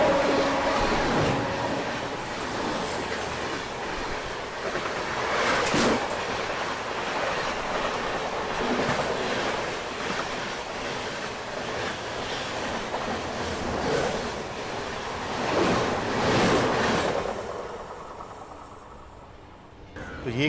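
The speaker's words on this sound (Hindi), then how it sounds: "ये जो भी ट्रेन अभी यहाँ से निकली वो इस अवध आसाम एक्सप्रेस को ओवरटेक किया उसने।" A New Tinsukia–Amritsar Express rolls through a station in a steady, continuous rumble of wheels and rail noise, close and loud throughout, fading slightly at the end.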